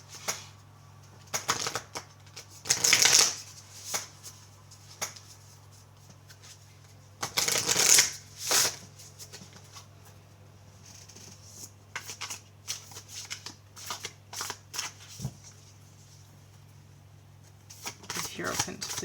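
A Shaman's Dream Oracle card deck is shuffled in two brisk riffling bursts, with lighter card taps and handling in between. A low steady hum runs underneath throughout.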